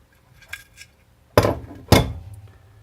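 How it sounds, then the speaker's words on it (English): A small metal spacer piece is worked out of a Masterpiece Arms Mini-9 rifle during disassembly, giving faint taps followed by two loud, sharp metallic clinks close by. "there should be a little spacer piece that will come out"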